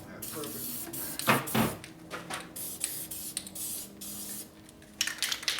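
Spray paint can hissing in short bursts to clear solvent from its tube, several close sprays of varying length, with someone speaking between them.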